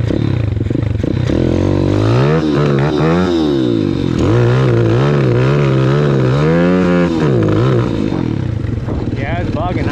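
A pit bike engine runs rough and bogs down, its revs surging up and falling back in uneven waves, loud and close throughout.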